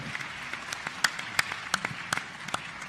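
Scattered, thin applause from a summit audience as a panel leaves the set, with individual claps popping out distinctly over a quiet room.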